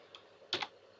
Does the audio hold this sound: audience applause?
no